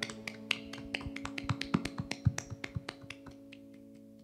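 A church youth worship congregation claps together in a steady rhythmic beat that builds briefly and then fades, sharp and close with some sustained tones underneath.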